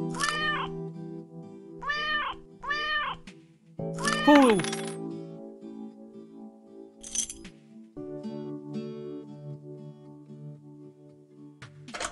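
A kitten in the puzzle video game 12 Locks Vlad and Niki meows three times in quick succession, followed by a longer, louder meow, with tinkling chimes and a sustained musical tone beneath.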